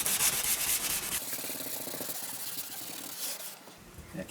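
Hand sanding of the painted upper section of a car door, a soft rhythmic rubbing scrape repeating in short strokes, close to the microphone with no talk.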